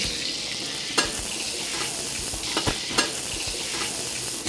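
Garlic fries in hot oil in a pan with a loud steady sizzle, a few sharp scrapes and knocks of the utensil stirring it, close up.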